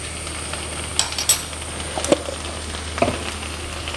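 Mustard seeds fried in hot oil for a home-cooked Kerala tempering give off a steady close sizzle, with a few sharp pops and crackles scattered through it.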